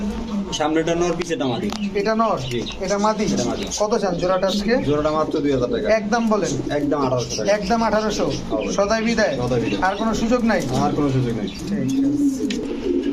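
Red-eyed silver pigeons cooing at close range, with repeated throaty, rolling coos overlapping continuously throughout, among a loft of racer and fancy pigeons.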